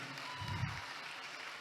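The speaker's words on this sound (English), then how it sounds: "with a very resounding round of applause, let's welcome the gorgeous" Audience applause welcoming a speaker at a youth empowerment summit, a steady wash of clapping heard from some distance, fairly faint and even throughout the short stretch.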